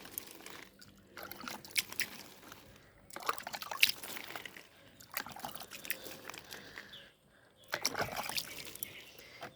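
Water poured a little at a time onto tomato and chili seedlings in already damp soil, soft trickling and splashing in short bursts with quiet pauses between them, faint and close.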